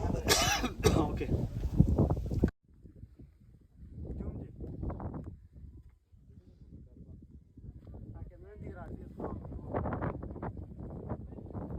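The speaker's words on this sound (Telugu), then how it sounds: "మీరు చూసారు కదా విపరీతమైన గాలి, అందులో విపరీతంగా దగ్గు వచ్చేస్తుంది" Strong, cold wind gusts across a hilltop, buffeting the microphone in a loud roar at first, then dropping to a lower rush while a person coughs and clears their throat several times and speaks between the coughs.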